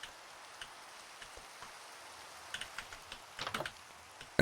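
Rain in a video game, a steady soft patter with scattered sharper drops and a brief cluster of louder hits near the end, heard alone at low level.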